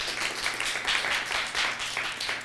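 An audience applauds a volunteer called up during a body language show, steady, fairly close clapping from many hands that keeps going throughout with no voices.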